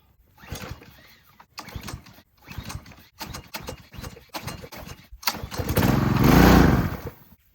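Gas pressure washer engine being pull-started, a series of short sputtering cranking bursts separated by pauses, then the small engine catches and runs loudly at the end, close up.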